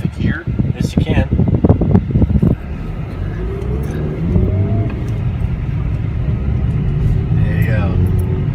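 Road traffic rumbles past a Jeep waiting at an oil change shop: a steady, close engine and road noise, with a vehicle accelerating and passing early on and a low continuous drone afterward.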